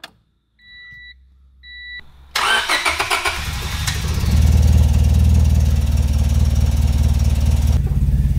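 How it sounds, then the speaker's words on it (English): A Honda Civic's chimes beep twice, then the starter cranks briefly and the engine catches and settles into a steady, loud idle close by, cutting off near the end. "So what you heard was the car run."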